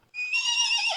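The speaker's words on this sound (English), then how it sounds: "It's not even the big horse that's making all the noise." A small horse gives a loud close whinny that rises and holds for about a second, then drops away.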